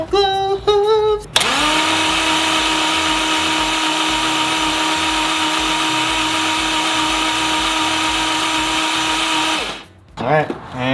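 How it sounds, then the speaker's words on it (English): A Subaru EG33 flat-six engine being cranked over by its starter, a loud steady whirring drone held for about eight seconds before cutting off, with brief voice sounds just before and after. "So let's try turning it over."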